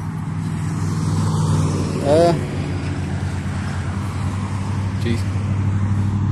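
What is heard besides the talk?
weed eater engine powering a bicycle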